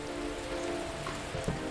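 Steady rain falls in the video game Persona 4, a continuous soft hiss with sustained tonal music lines running beneath it throughout.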